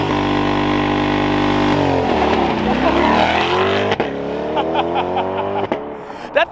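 A C8 Corvette engine revs hard and steady up close, wavering through a high sustained roar as tires spin on the pavement, with sharp bursts near the end and some voices underneath.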